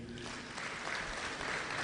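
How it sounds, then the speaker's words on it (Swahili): A crowd at a public gathering in Dar es Salaam claps for religious leaders, a dense, steady burst of applause heard from a distance, lasting under two seconds. "Naomba tuwashukuru viongozi wetu wa dini kwa makofi."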